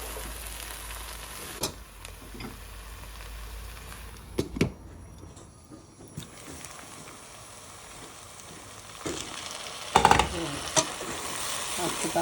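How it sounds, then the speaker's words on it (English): Potato and cauliflower aloo gobi sabji frying in a pan, a steady low sizzle with intermittent clanks and scrapes of a spoon stirring, close by, with no voices over it. "So in between I'm just going to give it a stir,"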